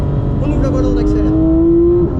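A Porsche race car accelerates on a track, engine note climbing steadily in a strong tonal whine from inside the car, with a voice speaking over it.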